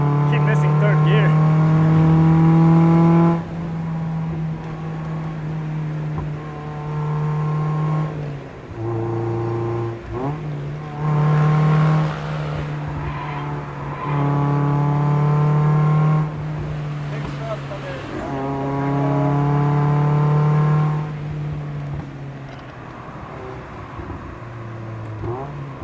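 A Mazda Miata engine revs hard on the winding Tail of the Dragon mountain road, heard from close by as it climbs through the gears in repeated pulls, with brief dips at each shift.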